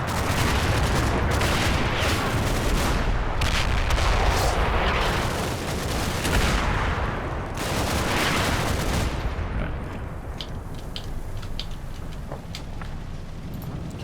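Sustained gunfire and mortar fire from a Combat Mission: Battle for Normandy battle, with dense machine gun bursts layered over rolling booms, loud and continuous throughout with no voices.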